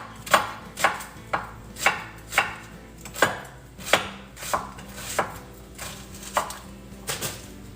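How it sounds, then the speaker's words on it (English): A knife chops an onion on a cutting board in a home kitchen, with evenly spaced crisp thuds repeating about twice a second, close up and clear. "Chop up my onion here."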